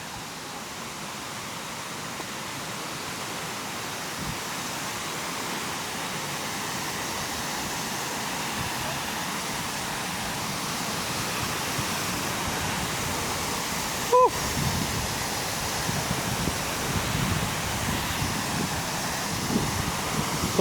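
Waterfall at Lata Kijang in Kenaboi State Park, a steady broadband rush of falling water that holds even and continuous throughout, with one brief sharp click partway through.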